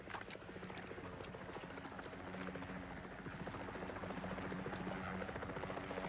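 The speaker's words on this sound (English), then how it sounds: "That's the chopper." A Bell 206 Jet Ranger helicopter flies overhead with a rapid, steady thudding rotor chop over a rushing turbine whine, holding loud and constant and swelling slightly toward the end.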